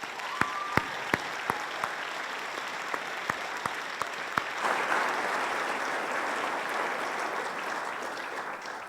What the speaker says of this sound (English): Can I ask you to give us a round of applause to the arts faculty,